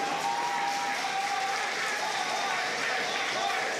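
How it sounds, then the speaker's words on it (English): Audience at an NHRL combat robotics final applauding a winning team, a steady dense wash of clapping and crowd noise throughout, with a voice over it. "Guys, round of applause."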